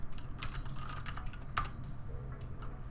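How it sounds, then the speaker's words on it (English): Rapid, irregular clicking of a computer keyboard during a live coding session, steady and close-miked with a few louder keystrokes standing out, no voices. "Loving the sound of your keyboard."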